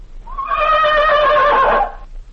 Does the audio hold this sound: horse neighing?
yes